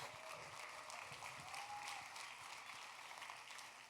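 An audience at a fundraising gala claps steadily, a continuous soft wash of applause at moderate distance, with a faint voice briefly underneath.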